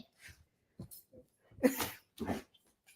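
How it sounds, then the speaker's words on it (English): A dog indoors makes a series of short snorts, sniffs and huffing breaths, close and fairly soft, in irregular bursts with quiet pauses between. "Look at that dog."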